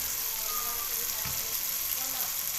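Masala frying in a pan as a kilogram of chicken goes in for chicken with bitter gourd, giving a faint, continuous sizzle with a soft clatter midway, no talking.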